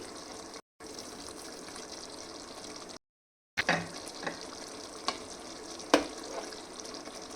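Kashmiri dum aloo masala with garam masala and kasuri methi stirred in a pan, a low sizzling bubble under intermittent scrapes and spoon taps, with two short silent gaps.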